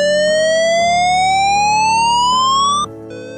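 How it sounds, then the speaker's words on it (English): A loud electronic fire alarm evacuation tone sweeps steadily upward in pitch for nearly three seconds, then abruptly drops to a quieter steady tone; no talking. "But if the fire alarm changes to this sound,"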